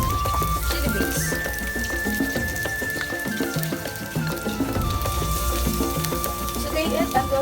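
Spring onions and chili paste sauté in sesame oil with a continuous crackling sizzle, heard under tuneful background music.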